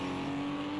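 Race car engine in a racing game, a steady continuous drone held at an even loudness for under a second, with no talk over it.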